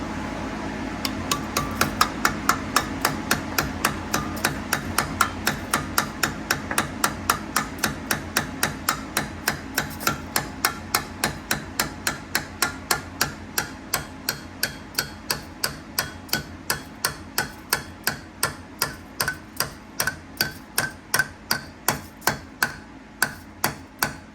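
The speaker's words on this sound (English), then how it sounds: "see how I'm gonna figure that out and get it tapped in straight" Steady metallic taps from a hammer drive a locking dipstick tube into a B-series engine block, dozens of evenly spaced, close, ringing strikes that continue for the whole span, quickening slightly and softening near the end.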